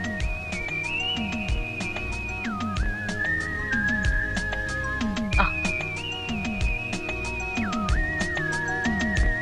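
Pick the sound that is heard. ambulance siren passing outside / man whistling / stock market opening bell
man whistling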